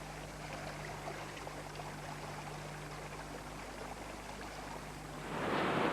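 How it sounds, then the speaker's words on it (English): Floodwater from a freak storm rushes down a dry gully riverbed toward herds of wildebeest, a steady broadband rushing flow with a low hum, swelling louder and closer in the final second. "Now the water is rolling down the empty riverbed"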